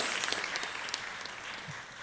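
Quiet, steady clapping from a church festival crowd, continuous and somewhat distant, with no voices over it.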